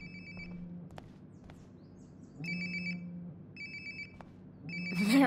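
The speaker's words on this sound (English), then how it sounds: "Sounds like my phone is definitely nearby." A mobile phone rings in Life is Strange: Before the Storm, a repeated electronic ringtone in three or four evenly spaced bursts, moderately close, with no one talking over it.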